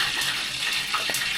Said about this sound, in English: I may have just put a little water by accident in the pan, so that's what that is.